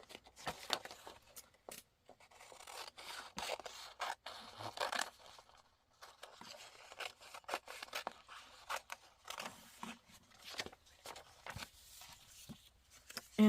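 Scissors cut a picture out of paper in a steady run of small snips and scrapes, close and fairly quiet, with no voice.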